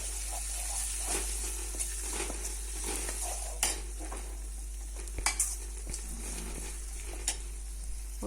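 Chopped onions fry in oil for a traditional garlic kuzhambu with a steady sizzle, under repeated metal spoon scrapes and clinks against the pan.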